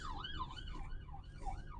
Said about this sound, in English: That siren there, it's gone past.